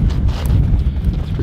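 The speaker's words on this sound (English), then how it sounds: "It's pretty windy." Gusty wind buffeting the microphone outside an abandoned house, a low rumbling roar that swells and dips without pause.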